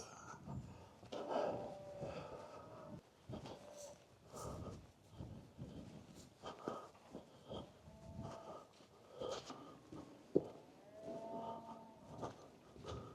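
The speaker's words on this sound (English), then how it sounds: "Not sure if you can hear the cows, but they're over there." Several cows moo on and off at a distance, low and drawn out, over quiet outdoor countryside ambience in Lincolnshire.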